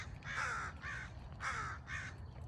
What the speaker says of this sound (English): And the crows are making some noise.